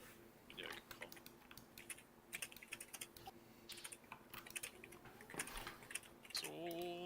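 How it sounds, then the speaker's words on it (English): Fast, vigorous typing on a mechanical computer keyboard makes a steady rattle of clicky keystrokes. It sounds fairly faint, with a little quiet speech near the end. "so much typing"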